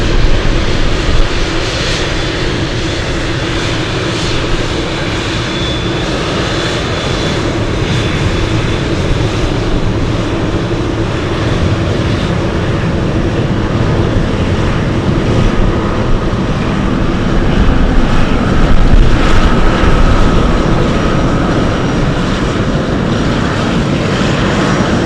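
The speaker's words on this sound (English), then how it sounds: "In a few minutes, we're going to have that Dreamlifter taxi in front of us." A Boeing 747 Dreamlifter cargo jet taxis at Anchorage airport, its engines producing a loud, steady roar that swells slightly toward the end, heard alone without talk.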